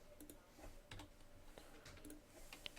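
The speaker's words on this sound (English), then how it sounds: "and type in Wallace" Typing on a computer keyboard while entering a name in animation software, heard as faint, scattered key clicks in short irregular bursts, close and quiet.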